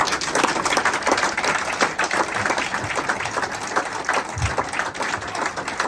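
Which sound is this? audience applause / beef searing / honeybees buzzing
audience applause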